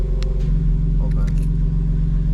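Car engine idling with SST exhaust valves open, a steady deep rumbling drone, close and loud, with a few brief faint clicks on top.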